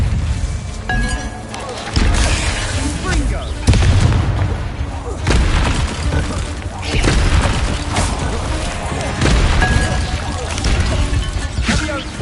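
Spell combat in Hogwarts Legacy, with heavy booming explosions and crashing impacts recurring every couple of seconds, loud and near, under a steady rumbling battle mix with a voice speaking at times.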